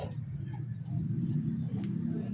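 Low, rolling pigeon coos repeat steadily close by, with faint chirps from other birds in the background.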